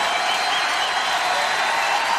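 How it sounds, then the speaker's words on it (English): A large stadium crowd at a 2005 drum corps finals medal ceremony cheers and applauds, a dense, steady roar of clapping and shouting heard from a distance. "Listen to this crowd."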